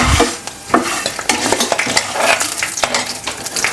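Sliced onion sizzling and frying in hot oil with star anise and fennel seeds for a tempering, loud and close, with a spoon stirring and scraping the pan throughout.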